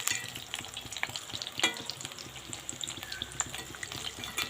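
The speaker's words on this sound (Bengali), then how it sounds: "তো আমি কুমড়োগুলো সব দিয়ে দিয়েছি, দেখতেই পাচ্ছেন। এগুলো একটু ভাজা হোক" Pumpkin pieces fry in oil with a moderate, steady sizzle, and scattered clicks and scrapes come from a utensil stirring in the pan.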